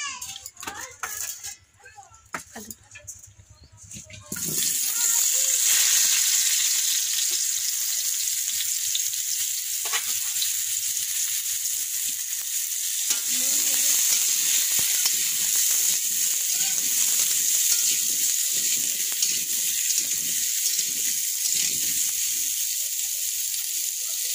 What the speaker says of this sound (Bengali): এই তেল দিল, প্রথমে আলুটাকে কষিয়ে নিচ্ছে মা।